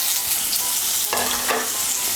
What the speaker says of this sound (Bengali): তেলটা আমার গরম হয়ে গিয়েছে, এর মধ্যে আমি আলুগুলো দিয়ে দিচ্ছি।